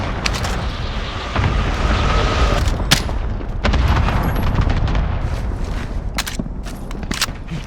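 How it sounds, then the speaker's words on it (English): Rapid cluster-strike explosions boom through a Call of Duty Warzone match, a dense run of loud blasts and sharp cracks packed over continuous battle rumble, with several distinct impacts standing out near the end. "Allied cluster strike inbound."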